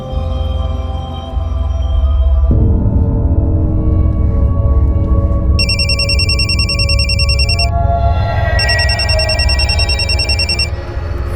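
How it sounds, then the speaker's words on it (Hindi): A telephone rings on and on unanswered indoors, its electronic ring tone loud and repeating in two long bursts over a steady low hum, with no one speaking. "फोन क्यों नहीं उठा रही?"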